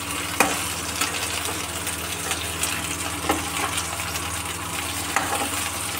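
Okra masala fries in a pan with a steady close sizzle, punctuated by regular sharp clicks and scrapes of a spatula stirring against the metal.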